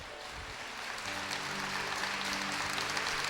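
Distant applause from an audience, soft and steady, building slightly with a faint tonal hum beneath the clapping.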